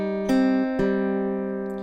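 Acoustic guitar plucking single strings without a bass note in a song, a few clear ringing plucks in slow succession, close and alone.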